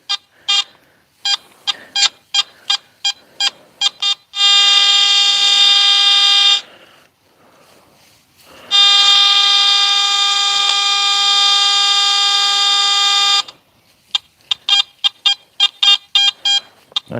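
Metal detector sweeping over a buried target at a 1778 farm museum, giving a rhythmic series of short beeps broken by two long, steady, loud high-pitched tones, then quick beeps again.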